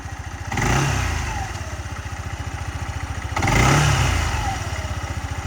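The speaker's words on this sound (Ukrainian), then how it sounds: "прекрасно, тихо працює сам двигун, без ніяких питань." Yamaha Majesty 155 S scooter, a 2019 model, running with a steady mid-pitched putter and quick pulsing firing rhythm, swelling twice in short revs before settling back, close by and alone without talk.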